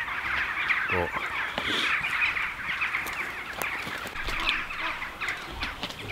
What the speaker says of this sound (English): A massive, massive flock of birds that are roosting above